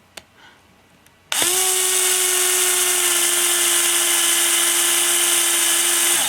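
A power tool drives screws to mount a wheel on an Axial Yeti kit truck frame, starting after a couple of faint clicks and then whirring steadily and close for several seconds.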